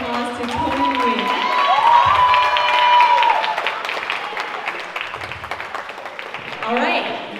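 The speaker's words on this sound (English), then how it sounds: "Another huge round of applause to Tony Nguyen." An audience at a Vietnamese film festival awards gala applauds, a broad steady wash of clapping from a crowd filling the room and slowly tapering off, with an amplified voice speaking over it.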